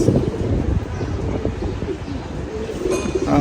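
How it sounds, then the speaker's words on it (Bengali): Shialkuti breed pigeons coo softly and steadily close by, low murmuring calls rolling over a breezy background. "এটা মূলত একটা শিয়ালকুটি প্রজাতির কবুতর গাইস"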